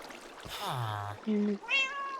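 A cat meows in a Minecraft desert survival world, a few clear rising and falling meows up close, with a person talking over and between them.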